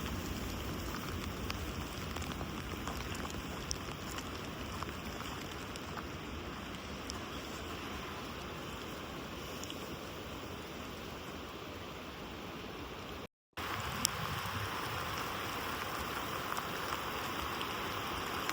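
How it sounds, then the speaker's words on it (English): Steady full rain falls around a hiker's camp on a Pacific Crest Trail mountain pass after a thunderstorm, a dense, even hiss of drops that continues without break. "Yeah, it's raining."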